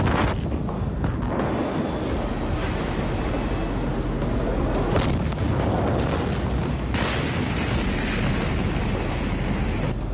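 An ammonium nitrate warehouse blast booms out, a massive, roaring explosion with a sustained, wind-battered rumble and repeated surges of noise, heard from a distance.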